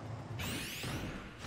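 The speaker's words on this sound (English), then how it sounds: "PK Thunder." A PK Thunder attack in Super Smash Bros Ultimate plays as a swishing electric streak that enters sharply and runs over a steady bed of game noise for about a second.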